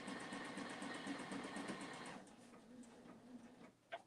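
A sewing machine stitching quilt fabric runs in a steady rapid whir for about two seconds, then stops, leaving faint handling noises and a small click near the end, close and quiet.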